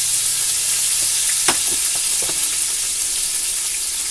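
Pork sizzles steadily in a hot pan with ginger and onion, a constant crackling hiss broken by a few sharp pops and a brief stir or clink near the middle, with no talking.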